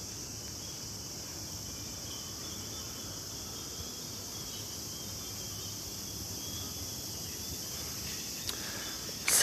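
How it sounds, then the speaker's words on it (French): Cicadas sing in a Japanese summer at a temple, a steady high, dense buzzing drone that holds evenly throughout, with faint ambient noise and a soft footstep-like knock near the end. "le chant des cigales"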